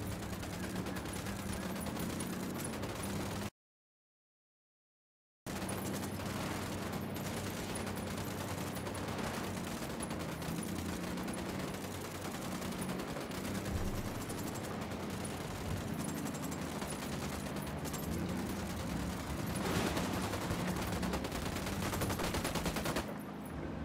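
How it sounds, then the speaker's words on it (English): Gunfire in the video game Ghost Recon Wildlands crackles continuously, sustained bursts of loud automatic weapon fire and sharp shots piling over each other, broken by a two-second silent gap early on. "I'm opening fire."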